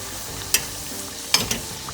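Paneer puffs fry in hot oil with a steady soft sizzle, broken by a few sharp crackling pops close by, no voices.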